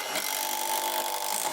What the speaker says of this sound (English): You see the drill is already working and I haven't even gotten into the piece I'm attaching to.